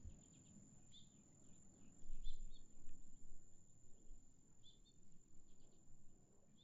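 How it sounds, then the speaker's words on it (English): Birds sing at a bird sanctuary in Chicago, their brief, faint chirps scattered over a steady low outdoor rumble, with insect-like calls mixed in and no one talking. "I hope you enjoyed those bird sounds. I recorded those in a local bird sanctuary here in Chicago."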